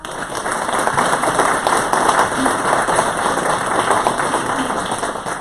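Audience clapping at a mayor's New Year address in a French town hall, steady dense applause from a large room sustained throughout without a break.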